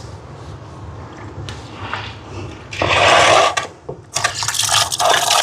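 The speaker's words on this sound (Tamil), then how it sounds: "இப்போ வாங்க மீனை கழுவ போகிறேன்" Fish washed with water outdoors in the sun, a quiet start giving way to loud bursts of splashing and running water, a short lull, then more sloshing and pouring.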